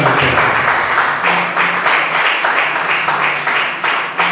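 A church congregation applauds together, steady crowd clapping sustained loudly throughout with rhythmic surges, no talk over it.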